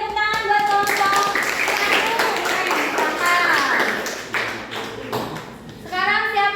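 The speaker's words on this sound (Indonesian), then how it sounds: "tepuk tangan buat kelompok" A classroom group gets applause from pupils, a steady wash of clapping running most of the way through with children's voices and chatter mixed in and overlapping on top.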